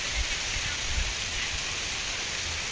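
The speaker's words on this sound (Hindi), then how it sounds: "It's raining, man." Steady rain falls on a natural farm with trees and netting, a broad even hiss of drops throughout with faint low thuds, no one speaking.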